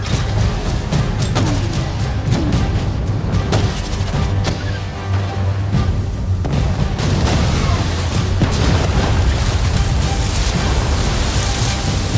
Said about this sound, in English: Roll on fire, medium pattern, roll on fire.